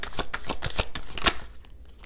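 A deck of playing cards being shuffled, giving a close run of quick papery riffles and flicks at a steady rhythm that fades near the end, with no talk.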